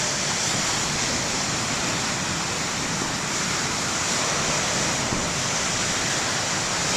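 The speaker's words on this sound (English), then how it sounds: "Yeah, the waves are really not that big" Small ocean waves wash onto the main lighthouse beach at Bald Head Island at low tide, a steady, loud roar of surf with no pauses or distinct breaks, and no voices.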